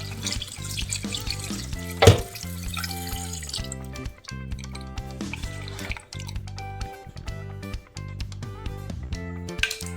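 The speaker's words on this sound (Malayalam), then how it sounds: "ഇതിലേക്ക് നല്ല തണുത്ത വെള്ളം ഒഴിച്ചിട്ട് ഇത് വീണ്ടും ഒന്ന് കഴുകാം" Water poured and sloshed while something is washed, with running splashes and a sharp clatter early on, close and fairly loud.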